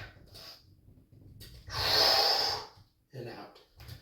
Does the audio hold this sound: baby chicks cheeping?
no